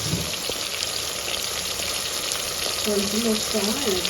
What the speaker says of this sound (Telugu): బాగా అయితే వేగనిద్దాం